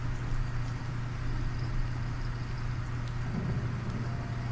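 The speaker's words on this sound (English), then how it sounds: "Sounds like a car." A car engine in The Walking Dead video game rumbles steadily at low pitch, swelling slightly as it draws closer near the end, with no voices.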